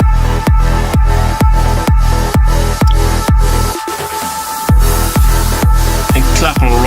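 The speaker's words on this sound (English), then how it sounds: "the main kick playing right here" Punchy four-on-the-floor kick drum in an uplifting trance track, loud and steady over sustained synth pads and chords, briefly dropping out for a short break before the beat returns.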